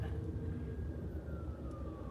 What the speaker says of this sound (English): oh, the ambulance is coming the opposite way